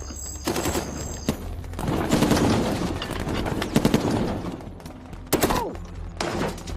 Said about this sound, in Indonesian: tiba-tiba mereka lagi-lagi kembali mendapat kontak senjata yang entah dari siapa tembakan tersebut